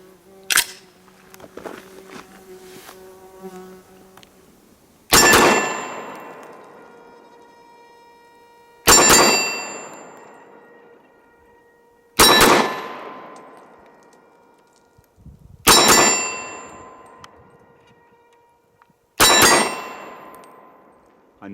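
A Glock 22 Gen 4 pistol fitted with a BT guide rod fires five sharp, loud outdoor shots spaced a few seconds apart, each followed by a long decaying echo, after a stretch of faint handling noise.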